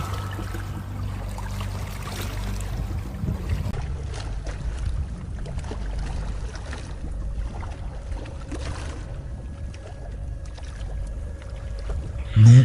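A rowboat moving along a river at night, with steady low water churning and sloshing throughout, fairly close, and a louder splash or knock right at the end.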